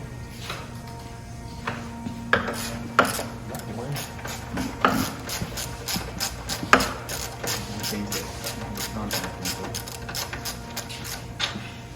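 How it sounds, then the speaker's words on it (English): Wrench turning a 9/16 inch bolt while mounting equipment, heard as irregular metallic clicks and ratcheting taps close by over a low background hum, with no clear talk. "It's probably a 9/16 inch wrench, Sam?"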